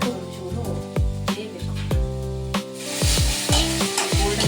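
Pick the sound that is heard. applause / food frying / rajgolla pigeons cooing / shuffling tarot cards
food frying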